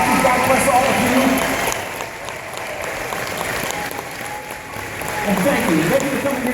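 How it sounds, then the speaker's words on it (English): Audience clapping for military veterans at a concert at SeaWorld, a dense sustained burst of applause from a sizable crowd that eases slightly midway and swells again near the end. "Let's give our veterans a nice big hand today."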